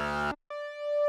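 A slightly modified sine wave tone from a synth operator in FL Studio: a short rich note, a brief silence, then a clean steady tone with a few overtones sustaining for about half a second.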